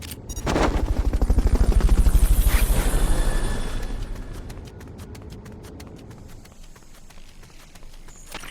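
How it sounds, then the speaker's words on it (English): A Fulton recovery helicopter in Metal Gear Solid: Peace Walker thumps in loud with a dense, fast rotor chop that swells, holds, then fades into a softer fluttering drone. "Fulton recovery helicopter is complete."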